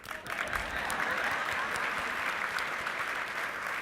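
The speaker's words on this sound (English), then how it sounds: "That's a clap." Sustained audience applause at a keynote luncheon of an education symposium, steady and dense clapping from a large crowd filling the whole stretch at even loudness, no talk over it.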